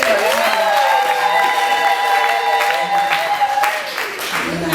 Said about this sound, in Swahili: Jamani, makofi na vigelegele.